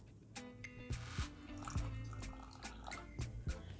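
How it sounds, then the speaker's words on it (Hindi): Water poured into a bowl of about two tablespoons of cornflour for a batter, with a series of sharp drips, splashes and trickles at irregular intervals, fairly quiet and close. "अब मैं इसमें पानी शामिल करूँगी।"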